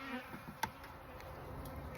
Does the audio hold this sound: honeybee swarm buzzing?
yes